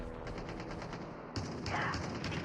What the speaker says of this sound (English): I hear some gunshots.